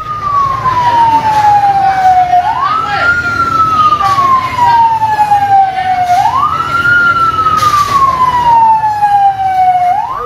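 A fire engine's wailing siren rises and falls in long, repeated sweeps, loud and steady over a rumbling road background.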